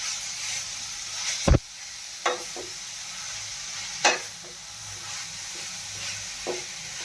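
Grated radish bhaji with asafoetida is sautéed in a pan, giving a soft steady sizzle broken by a few sharp spatula knocks, one louder clank early on, and no talking.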